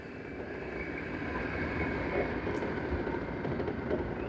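A train rumbles past steadily at close range, a continuous low roar with rail noise that builds slightly and holds for a few seconds, no voices.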